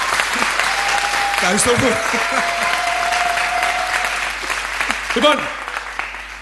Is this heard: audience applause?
yes